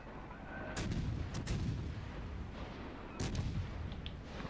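Naval guns on the destroyer MN Guépard blast in World of Warships Legends: three heavy booming salvos, each a sharp, loud crack with a rolling tail over steady battle noise.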